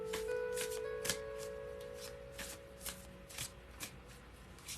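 Tarot cards are shuffled by hand in a series of soft, quick riffles and taps, close and fairly quiet, with a faint tone lingering in the background.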